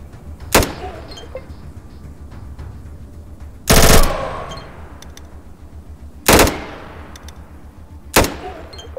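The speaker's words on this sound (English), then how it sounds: "We fire 3 shots, he fires 5 of AK at same distance" Bursts of automatic AK rifle fire in the video game ATOM RPG, four separate loud volleys spaced a few seconds apart, each a sharp broadband burst with a short tail, one in the middle noticeably longer.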